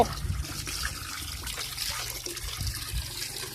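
Water pours into a basin for an animal's bath, a close, continuous splashing trickle with low gurgles and small bursts, moderately quiet and without talk.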